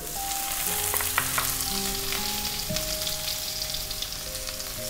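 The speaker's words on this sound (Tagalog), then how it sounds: "Gigisayin na natin yung ating bawang. Lagay ko na rin kaagad yung ating celery." Garlic and celery sauté in hot oil in a pan, a loud, close, continuous sizzle with light stirring scrapes and faint tonal hums underneath, no talking.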